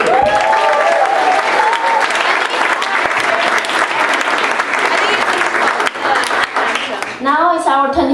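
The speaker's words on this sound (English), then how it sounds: "Let's give another round of applause to our awesome jazz set." A high school showcase audience claps after a jazz set, a loud, sustained round of applause from a crowd, with people talking and calling out through it and a voice rising near the end.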